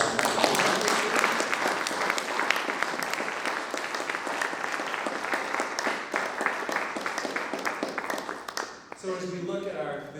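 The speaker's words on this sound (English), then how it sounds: "So please give another round of applause for our" A conference audience at a resource recovery panel applauds steadily and loudly for several seconds before the clapping fades and a voice begins speaking.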